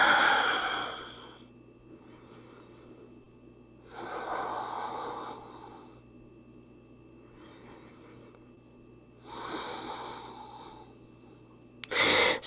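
Slow, deep breaths during a morning full-body yoga stretch, with three long breath-like swells spaced evenly through a quiet room and a brief sharper sound at the very end.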